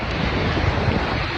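Ocean waves wash and splash at a beach inlet with steady, close surf and strong wind buffeting the microphone throughout, and no voices.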